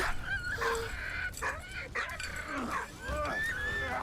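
Dog barking and whining in the World War I video game Valiant Hearts, with repeated yips over a steady game background.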